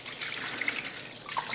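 Water poured from a container into a pan of sliced pork, a brief soft trickle and splash lasting about a second and a half, fairly quiet and with no voices.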